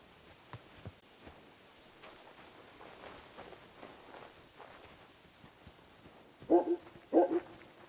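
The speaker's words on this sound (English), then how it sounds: "Get out of here, mutt! No one wants to hear your barking." A dog barking in the medieval action game Kingdom Come: Deliverance II, with a quick pair of clear barks near the end over quiet ambient game sound and soft footsteps.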